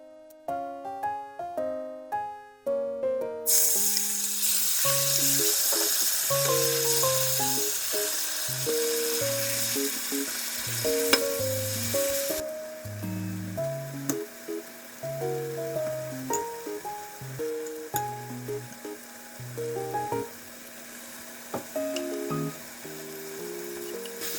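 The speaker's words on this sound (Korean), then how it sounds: "설탕과 참기름 넣어 볶아 5분 만에 완성되는 김치볶음입니다" Kimchi stir-fries in a pan with sugar and sesame oil, a steady hissing sizzle heard for several seconds beneath gentle background music that carries on throughout.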